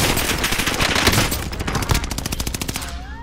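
Rapid automatic gunfire in a shooter video game, dense rattling bursts of shots firing continuously and loudly, with a brief rising electronic tone near the end.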